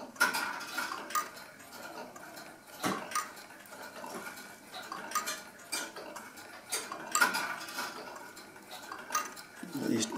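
Synchronome electric master clock mechanism, in good condition, giving quiet metallic clicks and ticks roughly once per second, close-up with faint background noise.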